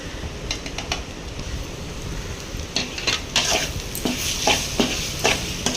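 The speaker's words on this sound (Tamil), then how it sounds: "கொஞ்சம் பெப்பர் பொடி போட்டுக்கிறேன். போட்டுட்டு அது நல்லா கிளறி விட்டுக்கலாம்." A spoon stirs carrot rice with pepper powder in a pan, sending bursts of scraping and clinks over a low steady sizzle, close, with the strokes growing busier toward the end.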